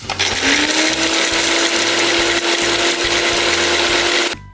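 A mixer grinder whirs loud and close as it blends spice paste with a little water, a steady high motor drone with a rising pitch that holds for about four seconds before cutting off abruptly.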